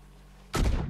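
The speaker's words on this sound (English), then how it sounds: "that's at least one bit of dynamite that's gone off today" A dynamite blast in Red Dead Redemption 2 cuts through quiet low hum, one sudden loud booming explosion that hits hard and then rumbles on in a broad roar.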